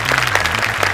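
Dense applause from an audience fills a hall at an innovation awards ceremony, a continuous wash of many hands clapping, loud and close, with no pause over the brief moment.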